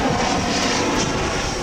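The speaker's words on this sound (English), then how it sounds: "That's just the private jet." A large-cabin long-range business jet passes low overhead above a mobile home park, its engines a loud, steady broadband roar with no talking.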